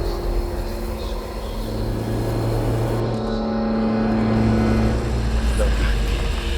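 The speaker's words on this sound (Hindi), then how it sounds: "वो गाड़ी तेज स्पीड से भगाता है।" A cartoon car speeds away along an empty road, its engine a steady, loud drone that swells slightly as it races off.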